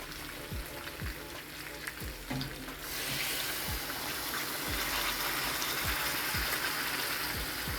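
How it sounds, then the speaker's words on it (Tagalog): Water pours steadily into a cooking pot of pork ribs kaldereta, a continuous rushing splash that swells louder partway through, with rhythmic ticking sounds underneath. "Tapos mag-add ulit ako ng tubig."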